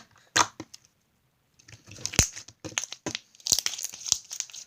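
Clicky, creamy slime is squeezed and pressed by hand, giving bursts of sharp, crackling pops and crinkly clicks in quick irregular clusters, close and fairly loud, with no talking.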